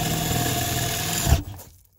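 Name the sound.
power drill drilling pilot hole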